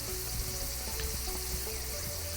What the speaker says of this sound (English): Like, let's cook these limes.